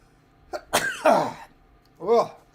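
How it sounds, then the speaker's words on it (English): A single sharp sneeze bursts out, preceded by a brief intake and followed by a short voiced sound; close and fairly loud against a quiet room. "oh, excuse me. I got sneezes."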